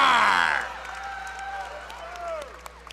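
Crowd at an amateur MMA event cheering and clapping for a knockout winner, with a loud amplified announcer voice at the start giving way to sustained whoops and applause.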